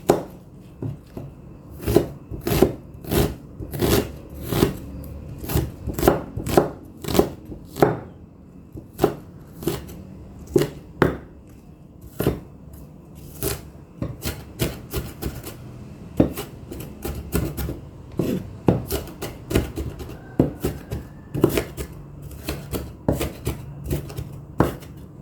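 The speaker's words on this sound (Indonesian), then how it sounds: "Cukup saja kita rajang halus-halus." Knife finely chopping onion on a cutting board while making an all-purpose spice paste from shrimp shells, a long run of close, crisp, rapid cuts in an uneven rhythm, with no talking.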